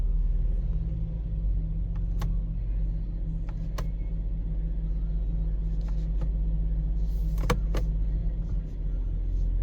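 A crashed Mercedes-Benz idles with a steady low engine rumble while it is shifted through its gears. A few faint clicks and clunks sit over the continuous hum.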